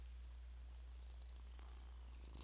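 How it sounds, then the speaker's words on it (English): A cat purring softly and steadily, a low continuous rumble close by with faint background hiss. "he's just purring on my desk"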